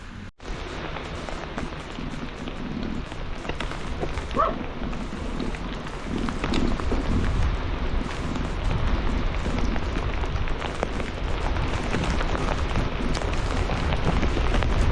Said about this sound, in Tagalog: Yun, lakas na ulan.